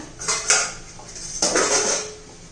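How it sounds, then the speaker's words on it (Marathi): A lid is lifted off a cooking pot of gavarichi bhaji, with clinking metal and scraping clatter in two short bursts, close and fairly loud. "अर्धा भर झाकण काढून घेऊया"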